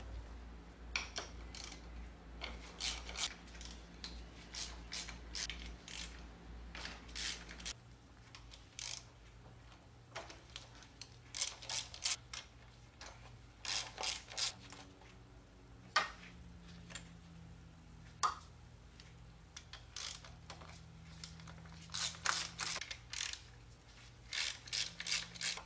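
A ratchet loosens the valve cover nuts and 10mm bolts on a B-series Integra engine: sharp clicking runs come in repeated bursts with short pauses between them. The sound is close but quiet, and no one speaks.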